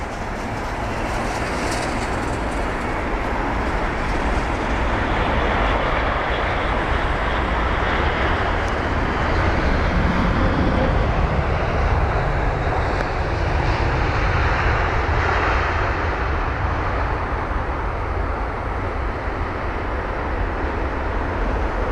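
An eight-year-old Air Canada Boeing 787, registration C-FNOE, landing at London Heathrow, heard as a loud, sustained jet-engine roar that swells slightly midway and stays steady throughout, without any voices.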